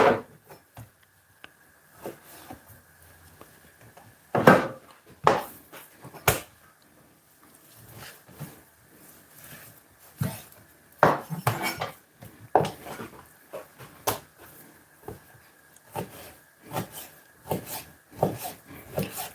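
A knife cuts beef into fairly large pieces on a board, giving an irregular run of close, sharp chopping thuds and scraping strokes in a quiet kitchen.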